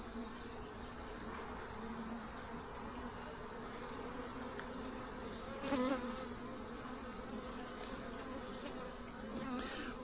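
Honeybees buzz densely and continuously on a hive frame during a hive inspection, a close, steady hum with faint shifts as the frame is handled.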